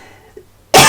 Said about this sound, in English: Sorry, suddenly coughing today.